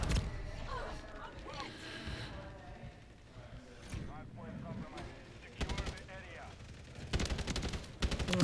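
Hipfire gunshots in a video game, fired in short, sharp bursts that grow louder toward the end, layered over busy game sounds.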